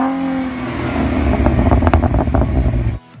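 A Ford Mustang 3.7L V6 with an MBRP axle-back exhaust revs up loudly close by, crackling briefly, then cuts off abruptly.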